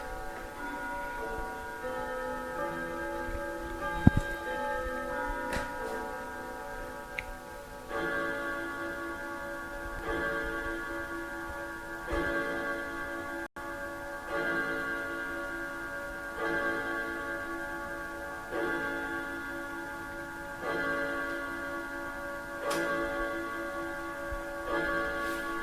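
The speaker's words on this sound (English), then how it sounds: "Beautiful grandfather clock going off." A grandfather clock ticking steadily while its chimes ring out in a slow sequence of resonant bell tones, close and clear in a quiet room with no speech.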